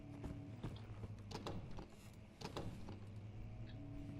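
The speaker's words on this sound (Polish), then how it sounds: "Może te drzwi się otwarły." A door opens in the horror video game Amnesia, heard as quiet mechanical clunks, knocks and creaks spaced irregularly over a few seconds against a low background hum.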